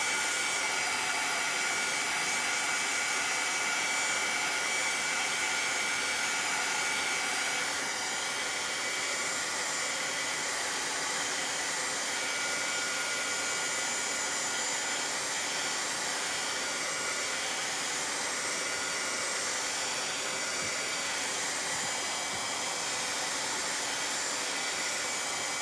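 Hair dryer drying paint on a Santa Claus craft project, a continuous steady airy roar with a slight shift in tone partway through, running evenly for the whole stretch without talk.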